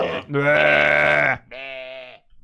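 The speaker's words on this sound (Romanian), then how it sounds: "Mai avem aici oi și o găină." Video game sheep bleat loudly and close: one long, wavering bleat followed by a shorter second, then the start of another, alone with no talk.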